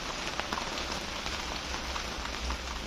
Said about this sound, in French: comme il pleut et qu'on travaille sous la pluie, on a dû mettre la tonnelle